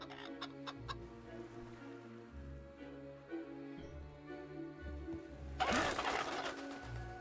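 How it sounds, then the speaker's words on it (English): Video-game chickens clucking in a kick-the-chickens scoring game, several short faint clucks over low ambient hum, ending in a louder flurry of flapping and squawking. "They're only chickens, you know."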